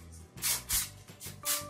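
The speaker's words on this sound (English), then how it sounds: "spray a little bit of this on" Redken Quick Tease 15 hair spray hisses from an aerosol can in several short, soft bursts spaced closely together. The spray is close but quiet, with no talking over it.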